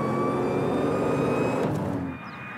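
A car engine with a supercharger whirring, a dense steady roar with high whining tones held for about two seconds before dropping away, close and loud with no talk.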